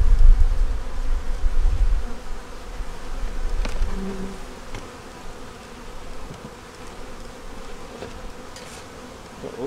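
Honey bees buzzing during a hive inspection, a continuous close droning hum with individual bees passing near, plus some low handling bumps early on.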